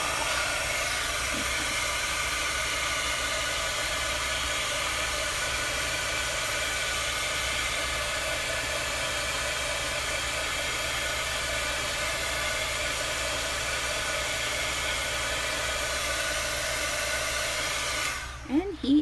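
Hair dryer blowing steadily to dry a Chalk Couture chalk transfer, a loud continuous whooshing hum close by that cuts off abruptly near the end.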